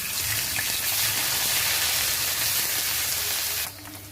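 Whole cumin seeds sizzle in hot oil in a pan, a loud, dense frying hiss that holds steady and then drops abruptly near the end.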